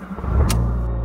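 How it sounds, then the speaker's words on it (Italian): A car engine turns over and catches, then settles into a steady, loud idle with a brief sharp burst partway through, heard up close with no talking. "Spero che la mia auto ora parta."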